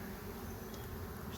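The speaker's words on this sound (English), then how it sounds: "Beautiful box of bees up here." Honey bees droning in an open hive box in an apiary in spring, a dense steady close buzz with no pauses.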